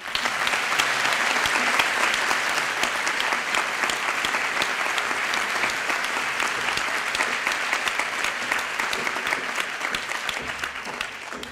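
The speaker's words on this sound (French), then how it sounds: "On peut doubler les applaudissements." Sustained applause fills a doctoral graduation ceremony hall at Normandie Université, a dense, steady clatter of many hands clapping for over ten seconds and tapering slightly at the end, with no talk over it.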